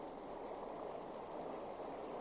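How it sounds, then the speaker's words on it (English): Running water from a mountain stream flows steadily and evenly, a soft continuous wash that stays at the same level throughout with no voices. "she noticed that there was running water down this side, flowing from the mountain"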